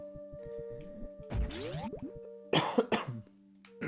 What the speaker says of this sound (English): I don't know why I'm coughing though.